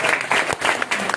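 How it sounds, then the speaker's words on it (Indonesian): A congregation at a church Christmas celebration bursts into applause, a brief, dense wash of clapping close by, loud and continuous. "Tepuk tangan dong untuk Tuhan Yesus"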